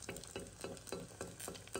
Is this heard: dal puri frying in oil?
yes